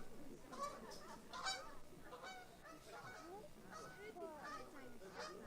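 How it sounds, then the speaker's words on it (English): Geese honking repeatedly in a loose, overlapping chorus, calls rising and falling at moderate distance over a steady outdoor background, no clear speech among them. "Even the geese want some."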